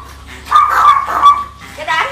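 A pack of pet chihuahua puppies yips and barks in overlapping high-pitched bursts, close and fairly loud, with people talking around them.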